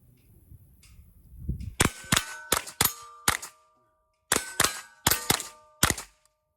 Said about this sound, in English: If I just go like that and pull the trigger every time I see a plate, there's no recoil out of this thing